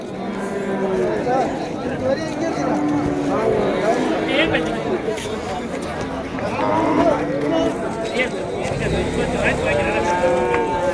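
Calves moo repeatedly at a native cattle market in Vaniyambadi, their calls rising over a busy crowd of people talking nearby.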